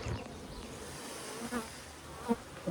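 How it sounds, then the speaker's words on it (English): Honey bees hum in a busy hive box, a dense, fairly quiet buzzing swarm with individual bees droning past close by. "A nice busy box of bees."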